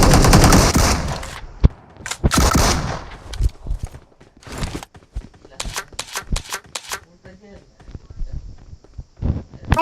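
Rapid bursts of gunfire from a shooter video game crackle in sharp clusters, loud and close, mixed with clicks and shuffling, while several players talk over the action.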